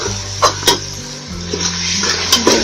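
Yakhni pulao with plums fries in a pot while a utensil stirs it, giving a few sharp metallic clinks and scrapes over a low, steady sizzle and kitchen hum.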